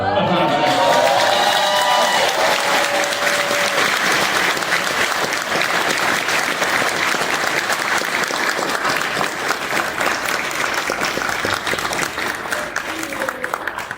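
Applause and cheering from a crowd at a Nightmare on Elm Street convention panel at Monster Mania, Hunt Valley: a long, loud, sustained roar of clapping with whoops and shouts early, a voice over it at the start.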